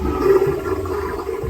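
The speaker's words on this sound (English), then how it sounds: "we have a water saver flush, a normal flush" A marine toilet flushing aboard a Pursuit DC266 boat, a steady whooshing rush of water with a pump hum underneath, moderately loud and close, with no talking.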